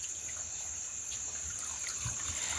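Thin water trickling from a small stream, channelled along a leaf at a camping spot, a faint steady dribble under a constant high insect-like hiss, with soft low rumbles.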